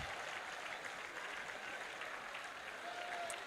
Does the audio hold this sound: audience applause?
yes